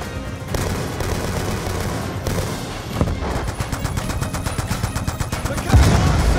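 Rapid, sustained bursts of mounted machine-gun fire from the barge in Call of Duty: Black Ops 2, loud and dense, with scattered explosions in a continuous battle din and no talking.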